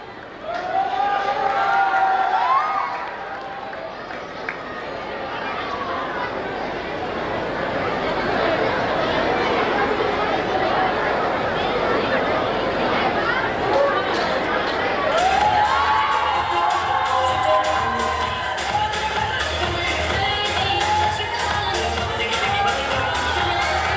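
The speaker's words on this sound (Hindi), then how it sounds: "जोरदार तालीम बच्चों के लिए," A school annual function audience claps and cheers for children, a dense sustained roar of crowd applause mixed with shouting and chatter throughout.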